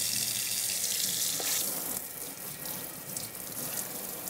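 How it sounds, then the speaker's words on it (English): Tap water from a running kitchen faucet pours steadily as an Oven Copper Crisper tray is rinsed beneath it, a close, continuous splashing hiss that shifts slightly as the tray moves in the stream. "So I'm gonna rinse it first."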